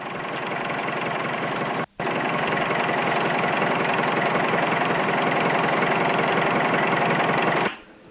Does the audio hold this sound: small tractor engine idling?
yes